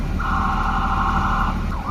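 An emergency vehicle siren at a Canada Day parade in Dawson City, Yukon blares with a steady high tone over traffic noise, then begins to wail upward at the end.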